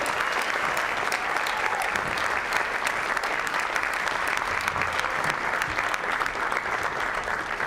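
Steady, full applause from a concert audience for a military jazz band at a Christmas concert, dense clapping holding at an even level throughout.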